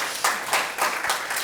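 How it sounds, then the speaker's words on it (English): Audience applause after a humanities research seminar talk, a steady burst of many hands clapping close by, filling the short moment without talk. "Give a round of applause again."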